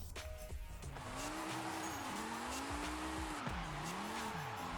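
A Toyota Chaser GT drifts in Forza Horizon 5 in low gears, its tires squealing in long wavering howls over a close, steady engine roar, with no talk.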